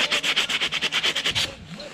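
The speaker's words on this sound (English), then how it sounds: "just grab any kind of sandpaper and just sand it all off" A sticky, dirty snowmobile power valve coated in black deposits is scrubbed with sandpaper in fast, rhythmic back-and-forth strokes, close and scratchy. About a dozen strokes come in quick succession before they stop.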